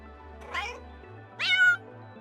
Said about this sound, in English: a kitten in the middle of the road crying and meowing for help